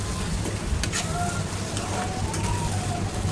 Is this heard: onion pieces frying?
yes